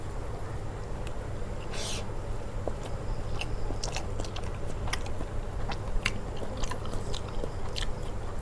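Someone eating fish curry cooked with okra and eggplant, with close, repeated soft chewing and small crunchy bites over a low background hum.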